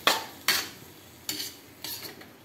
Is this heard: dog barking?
no